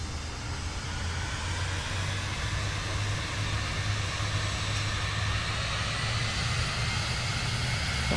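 Simulated aircraft engine in Microsoft Flight Simulator 2024 given a burst of power to roll over rough terrain, a steady broadband drone with a low hum that holds level throughout, without speech.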